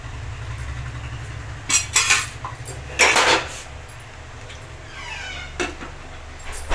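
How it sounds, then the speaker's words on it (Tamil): A spoon scrapes and clinks in a metal pan while stirring masala with water for salna, a few short bursts over a low steady hum, with quieter stretches between. "ஒரு வாட்டி நல்லா மிக்ஸ் பண்ணி விட்டுடலாம்"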